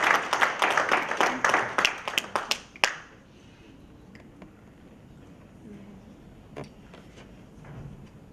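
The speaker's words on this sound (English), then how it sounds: "Shall we give a round of applause for this?" An audience at a London funeral cash plan launch event claps in a dense burst of applause for about three seconds, which then cuts off to near-quiet room tone with a few faint scattered taps.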